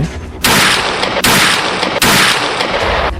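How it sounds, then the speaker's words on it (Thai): Heavy gunfire in three sustained loud bursts, each a dense roar of shots with sharp onsets and no pauses, close and overwhelming. "เสียงปืนพันแผดระงม"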